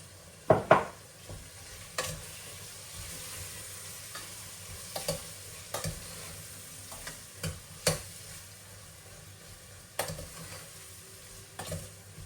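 Spiced papdi beans and peas cook in oil with a low, steady sizzle, broken by repeated spoon scrapes and clacks against the pan every couple of seconds.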